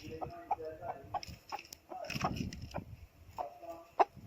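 A broody hen clucks in short bursts while being caught, with a few sharper squawks and some rustling handling noise around her.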